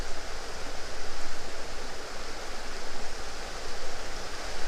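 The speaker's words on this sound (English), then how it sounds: "it's a lovely wee break of water here with the stones, and the water's all flowing through the stones" River water rushing and splashing over stones at a small break in a stream near Garvagh, Northern Ireland, a steady close broadband wash with no pauses.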